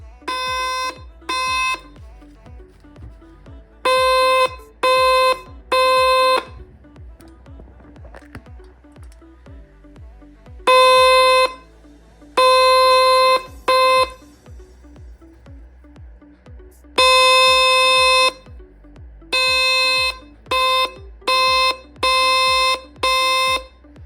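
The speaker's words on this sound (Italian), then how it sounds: "E abbiamo creato un clacson fai da te" A loud, buzzy homemade horn honks in repeated bursts, some short and some held, with an irregular rhythm and brief quiet gaps between blasts.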